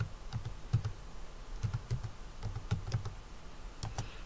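Typing a folder name on a computer keyboard: soft, close key clicks in small irregular clusters over a quiet room hum, with no voices.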